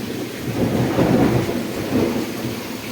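Rain and thunderstorm, a steady wash of rainfall with low rolling thunder swelling twice, moderately loud and continuous with no voices.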